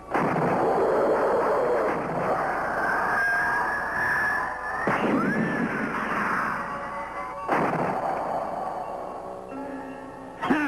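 Gunfire shooting at a rocket in a 1966 science-fiction TV series, a continuous rumbling barrage with bursts and whistling tones rising and falling over it, steady and fairly loud throughout.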